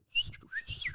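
A person whistles a vague imitation of a bird cry: two quick, thin, high whistled swoops, the second sliding upward, close and clear in a quiet room.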